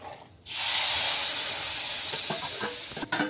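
Masala bursts into a sudden loud sizzle and hisses steadily as it fries in hot oil for a cauliflower curry, with faint clinks near the end.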